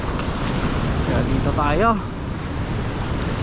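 Strong ocean surf at low tide rushes in a constant roar mixed with heavy wind buffeting the microphone, loud and close, with a brief voice speaking partway through.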